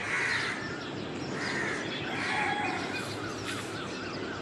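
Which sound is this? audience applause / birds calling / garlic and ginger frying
birds calling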